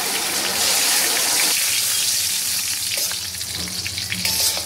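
Whole spices (bay leaf, cardamom and cinnamon) frying in hot oil, a loud crackling sizzle that softens midway, followed by light stirring scrapes and pops, with no speech.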